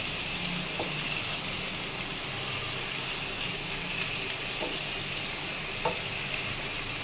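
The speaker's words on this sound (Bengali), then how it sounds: "আবার ভালো করে নাড়াচাড়া করে নিয়ে আবার একটু ঢাকা দিয়ে দেবো।" Bottle gourd shukto, a Bengali vegetable dish made without chilli, is stirred and fried in a pan, giving a steady soft sizzle throughout with a few faint scraping taps of the spoon.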